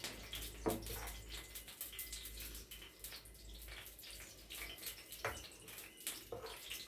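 Batter being poured into a hot kuzhi paniyaram pan greased with ghee and oil, a steady watery pouring and trickling sound with soft splashy bursts, close and continuous, no voices.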